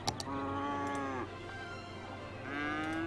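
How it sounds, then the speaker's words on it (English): A chorus of cattle mooing in the video game Cities: Skylines, long sustained lowing calls that fade and then rise again, with faint clicks at the start. "I wish those cows would shut up."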